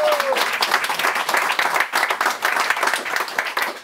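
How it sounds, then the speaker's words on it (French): Studio audience applause, dense, lively clapping that pulses in waves throughout, with a voice briefly heard at the start. "On applaudit bien fort Gérald Dahan."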